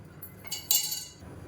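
A pan picked up and set down in a home kitchen while preparing Tamil kuzhambu, giving a few light metallic clinks and a brief clatter midway, fairly close over quiet room tone with no talk.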